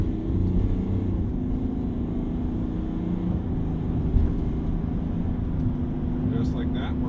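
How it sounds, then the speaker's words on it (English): A full-size pickup truck accelerates hard up a highway on-ramp, its engine a steady, heavy low rumble that fills the cabin, with faint muffled voices beneath. "So let's floor it on the on-ramp and see what this thing does."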